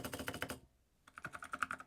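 Quick bursts of clicky keystrokes on a mechanical keyboard built for an Amiga 1200, a short flurry, a brief pause, then another run of close, crisp key presses.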